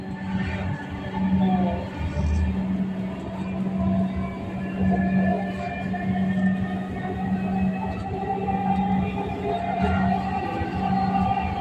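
A Dhaka metro train bound for Uttara North hums and whines steadily as it runs, motor tones rising and falling under a constant low drone.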